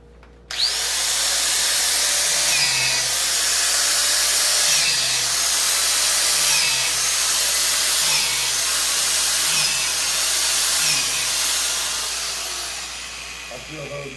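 A power drill bores holes into a log for growing mushrooms, a loud sustained high-pitched whine that runs nearly continuously for over ten seconds, rising and easing slightly as it works.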